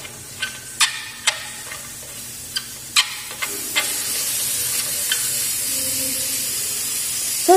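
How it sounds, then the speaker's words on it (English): An autoclave's steam release valve is opened, giving a steady rising hiss of escaping steam punctuated by several sharp clicks and taps, with no talking. "So now I am going to open my steam releaser."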